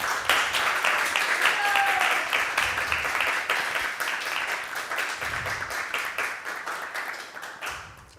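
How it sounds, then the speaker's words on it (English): Applause from an audience after a spiritual talk on Krishna, dense clapping throughout that thins and fades toward the end, with faint voices underneath. "a big round of applause to you."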